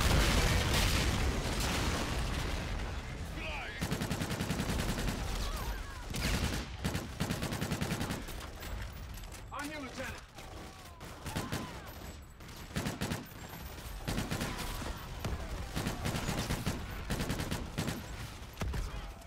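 Dense gunfire from the Call of Duty Infinite Warfare campaign: continuous overlapping volleys, rattling automatic bursts and booming explosions fill the whole stretch, loud and chaotic.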